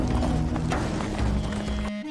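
Horses gallop toward a capital city in an Ottoman-era historical drama, their hooves clip-clopping in a quick, steady patter beneath sustained music, ending abruptly.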